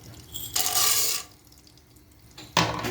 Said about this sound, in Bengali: তেল গরম হয়ে গেছে, এখন এইটুকু পপকর্ন দিয়ে দেব, এই কাপের আধা কাপ